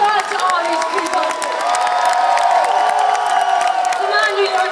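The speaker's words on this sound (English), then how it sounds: "A big round of applause to all these people." Large concert crowd in New York cheering, clapping and whooping loudly, a sustained roar of voices and applause with high shouts rising over it throughout.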